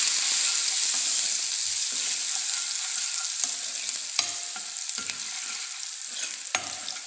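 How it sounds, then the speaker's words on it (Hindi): Finely chopped ginger and garlic fry in hot oil for a bitter gourd curry, giving a constant close sizzle with a few sharp stirring clicks and no voices. "इसको थोड़ा सा फ्राई कर लेते हैं गोल्डन होने तक।"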